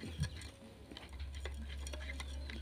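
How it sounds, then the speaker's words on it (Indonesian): Table salt stirred into water, a soft clinking and scraping of a spoon against the container repeated at an uneven pace, faint and close over a low steady hum. "kita akan aduk sampai ini tercampur dengan air sampai betul-betul si garam dapurnya ini larut"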